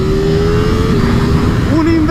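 A new 240-horsepower V4R sport motorcycle engine roars steadily at high revs, its pitch climbing then shifting up, loud and close with strong wind rush.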